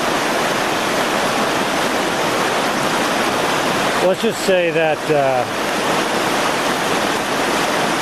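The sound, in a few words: rushing creek water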